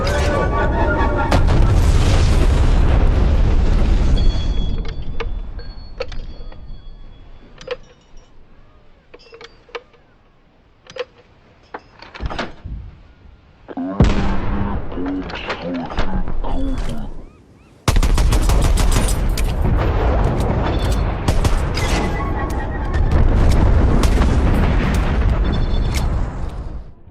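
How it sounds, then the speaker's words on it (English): A napalm strike hits in a Battlefield shooter, with heavy booms and rolling explosions mixed with rapid gunfire, loud and dense, easing briefly in the middle before surging back. "Enemy napalm strike incoming."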